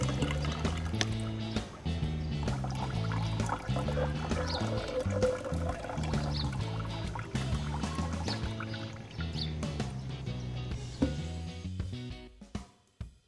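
Hot water being poured in to wash gold sludge recovered from CPU scrap: a sloshing, gurgling pour of liquid over a loud, steady low hum, continuous for most of the time before fading out at the end.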